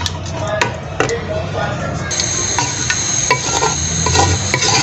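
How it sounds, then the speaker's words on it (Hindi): Meat being stirred in a pot while cooking a wedding-style deghi danedar qorma, giving close, steady scraping and rustling with a few sharp clinks and a faint sizzle throughout. "इसको हम अच्छे से हिलाएंगे"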